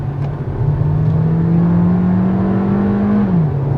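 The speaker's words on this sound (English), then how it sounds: "But now if I kick the accelerator" A 2022 Skoda Slavia Style's 1.5 TSI engine with DSG gearbox revs hard under kickdown, a steady, loud, near drone that climbs slightly in pitch and holds before dropping away near the end.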